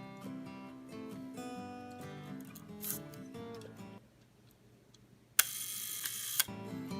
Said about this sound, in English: It's a very, very nice smooth shutter on this camera.